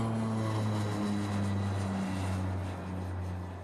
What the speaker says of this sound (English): While he concentrates on circling over Cork, Spanish Captain Jordi Sola Lopez